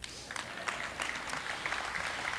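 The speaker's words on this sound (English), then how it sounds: "And you can clap for that." An audience claps during a speech at an opening day event, a moderate, somewhat distant patter of hands that continues evenly without voices.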